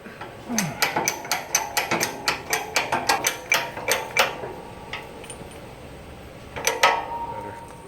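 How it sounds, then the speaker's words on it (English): Bearing pressed on during assembly of a Dana 20 transfer case from a 1966 Ford Bronco: a rapid series of about fifteen close metallic clicks and ratcheting knocks, then a pause and a final short burst of clanks. "And now our bearing will get pressed on and see what we got."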